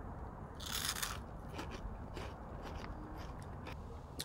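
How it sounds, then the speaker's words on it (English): Quiet, close crunching of Pure Protein nacho cheese puffs, a few sharp bites followed by softer crackling chews against a faint background hiss. "Listen to that crunch."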